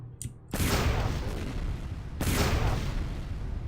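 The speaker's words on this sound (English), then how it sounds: "can I blow this open with the rocket?" Rocket launcher in the shooter game F.E.A.R. fires twice, each shot a loud, broad blast that trails off in a long rumbling decay, the second about two seconds after the first.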